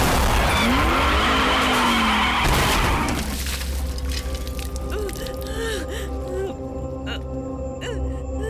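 A car brakes hard as the driver follows a shouted order to stop, its tires squealing and skidding loudly for about three seconds before the sound drops away to a lower rumble, with voices and tense music underneath.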